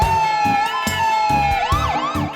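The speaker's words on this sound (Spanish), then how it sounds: "Es un carro de bomberos." A fire truck siren wails in a steady, loud, continuous tone that rises and falls in pitch, alone with no talking.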